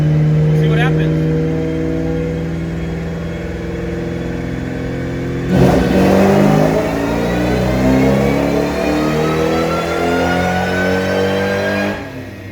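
A tuned car pulling on a dyno in 4th gear from about 2,500 RPM, the engine climbing steadily in a loud sustained rev that rises in pitch for roughly twelve seconds, with a brief roar surge midway.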